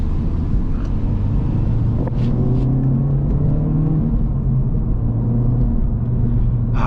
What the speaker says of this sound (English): It's nice to be out here in a manual car.